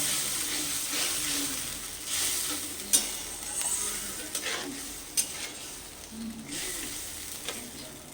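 Masala of ground turmeric and a little water is stirred and fried in a pan for Bengali fish-head mung dal, with a continuous soft sizzle and scraping strokes of the spoon, plus a few sharper knocks against the pan.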